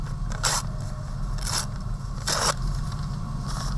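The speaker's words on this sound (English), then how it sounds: "I'm going to rip this kind of in half this way" Material for the chest of a wire sculpture is torn in half by hand: three short, close, rasping rips spaced about a second apart over a steady low hum.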